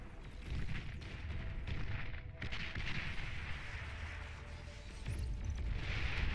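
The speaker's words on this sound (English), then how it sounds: "he is now having to deal with being artillery bombarded" Continuous artillery bombardment rumbles through a Beyond All Reason real-time strategy battle, with dense booming impacts layered over one another in a heavy, unbroken roar that barely eases.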